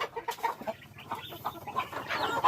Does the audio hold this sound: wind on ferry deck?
no